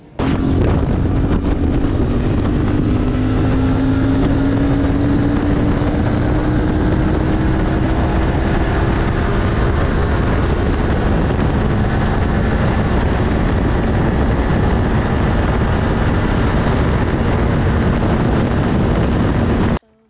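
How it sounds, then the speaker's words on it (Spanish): A CFMoto 450MT motorcycle engine drones loudly and steadily at top speed, about 160 km/h, its exhaust note rising slowly, with heavy wind rush throughout and no talking. "al menos en cuanto al sonido del escape, bastante, bastante bonito"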